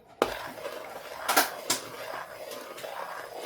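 A spoon scraping and knocking against a pan while churma ladoo mixture is mixed, with a few sharp metallic clinks and taps spaced over soft background hiss, close by, no talking.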